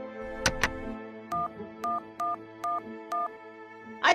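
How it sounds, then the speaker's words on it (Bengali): A telephone number is dialed on a phone: two sharp clicks, then five evenly spaced short touch-tone beeps, ending with a brief burst of noise, all close and clear. "আমি করালি বাবুকে ফোন করছি"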